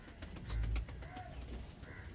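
Giribaj pigeons cooing nearby in a loft, a few soft low coos over quiet background noise.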